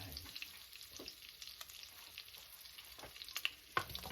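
Onions frying in melted butter for beef stroganoff, a faint, steady sizzle with scattered soft crackles and a couple of brief clinks near the end, no voices.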